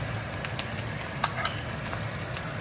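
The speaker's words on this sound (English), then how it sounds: "Then you're gonna want to add the Chinese sausage." Chinese sausage sizzles softly in a hot pan for egg fried rice, with a steady frying hiss and a couple of faint clicks of a utensil, no talking.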